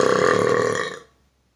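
A single loud, long burp rumbling for about a second before fading abruptly, heard alone without talk.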